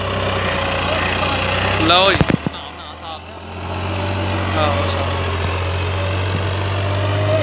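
A tractor engine runs steadily close by, a low continuous rumble with a brief louder burst near the middle, while people talk over it.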